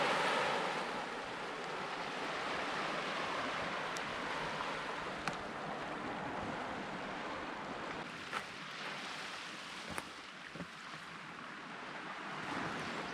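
Surf washing onto a private beach at a Cutler Coast backpacking campsite, a steady broadband wash of waves with wind across the microphone, with no talk over it.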